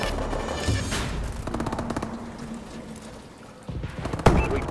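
Rapid automatic gunfire from a Call of Duty team deathmatch on the Horizon map, dense bursts of shots with a sharp nearby crack near the end.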